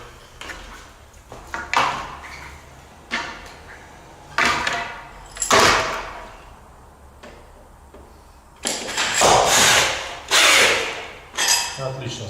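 Floor anchors are tightened while joists are installed for a raised plywood floor in a Stalin-era apartment: loud, close bursts of metallic tool and ratcheting noise come in irregular spurts, longer and denser toward the end.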